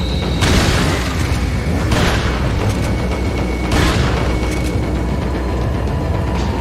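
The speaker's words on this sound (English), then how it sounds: "the shotgun is amazingly effective against these" Heavy booming shotgun blasts from the video game Resident Evil 4, several loud bursts spaced a second or two apart over a steady rumbling background.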